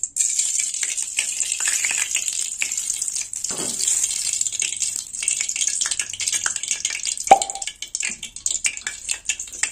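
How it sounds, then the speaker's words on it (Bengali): Ghee spooned into hot mustard oil in a kadai hisses with a steady, close sizzle that carries on throughout, broken by a brief spoon clink and a plop, with no voices. "তেল গরম হয়ে গেছে, তো আমি 1 চামচ ঘি দিয়ে দেবো এতে"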